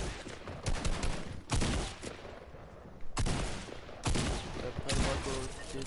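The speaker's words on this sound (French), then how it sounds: "Putain, mais le mec tire," Gunfire from a player shooting in Fortnite, loud repeated bursts of shots with short pauses between them, mixed with talking.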